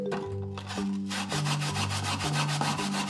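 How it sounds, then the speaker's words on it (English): Peeled daikon radish rubbed against a grater in quick, steady scraping strokes, close and loud with a squeaky rasp, continuing without pause and with no talking. "Grate the daikon with a grater."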